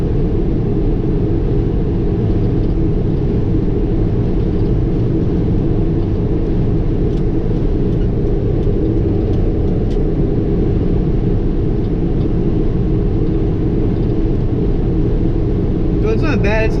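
A 1997 Toyota Town Ace with a 2.0 diesel cruising on the interstate, a steady loud low road and engine rumble with wind noise that holds constant throughout, with someone talking over it.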